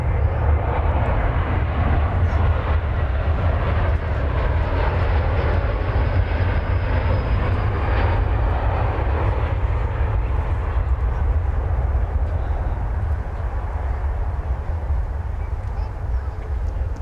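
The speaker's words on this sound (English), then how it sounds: "American Flight 1949 from San Francisco is coming on down." An American Airlines flight from San Francisco landing at DFW airport, its engines a loud, continuous broadband roar that holds steady for the whole stretch and eases slightly near the end, heard close with no talk over it.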